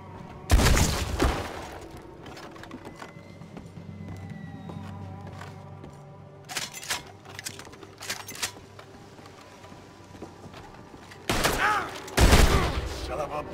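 Gunfire in Red Dead Redemption 2 comes as a loud close volley at the start, scattered fainter shots through the middle, then two heavy bursts near the end, with a voice talking in between.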